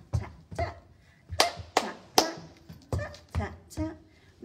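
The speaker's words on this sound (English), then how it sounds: "My hands say thank you with a clap" A group claps along to a children's goodbye song at a library rhyme time, with sharp hand claps in short bursts of two or three spread evenly through, singing voices running beneath them.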